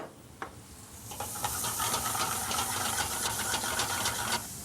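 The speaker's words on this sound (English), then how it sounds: "I will fry my garlic, add my onions and green peppers, get those sauteed very nice." Garlic, onions and green peppers sautéing in canola oil in a restaurant kitchen, a soft hiss that swells into a steady, fairly quiet sizzle with faint clicks, then eases near the end.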